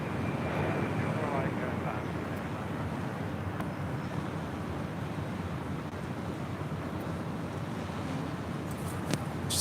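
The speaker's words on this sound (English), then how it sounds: "Heavy Boeing 747 short final" A heavy Boeing 747 on short final at LAX rumbles past as a broad, steady roar of jet noise mixed with wind buffeting the microphone, held at a moderate distance throughout.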